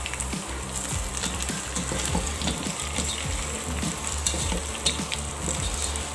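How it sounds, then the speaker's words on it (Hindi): Raw potatoes for a chickpea and potato biryani fry in hot oil over medium-low heat, giving a dense, continuous sizzle with crackles and the scrape of stirring, close and steady throughout. "थोड़ा सा आलू को फ्राई करेंगे।"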